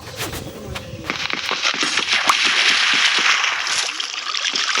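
Water flowing in the Minecraft video game, a steady broadband rush that starts after a brief quieter moment and then holds constant and fairly loud, with no talking.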